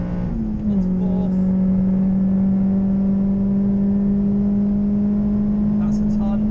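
A Citroen C4 VTS 180 accelerates hard in fourth gear around a race circuit, its engine note a steady loud drone that climbs slowly in pitch from inside the cabin, with no talk over it.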